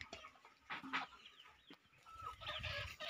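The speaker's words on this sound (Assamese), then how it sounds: "চাওক, মুৰ্গীবিলাক ইয়াত জিৰণি ৰৈ আছে।" Hens resting in the sun on a home vegetable farm give soft, scattered clucks, some close and some farther off, against a quiet outdoor background.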